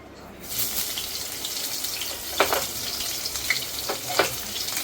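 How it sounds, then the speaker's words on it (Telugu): Tempering spices (garlic, dried red chillies, curry leaves, cumin) crackle and sizzle in hot oil, a steady frying hiss with a few sharper pops and stirring sounds, close by and with no talking. "నూనె వేడెక్కిన తర్వాత ఇలా పోపు సామాన్లు వేసుకోవాలన్నమాట."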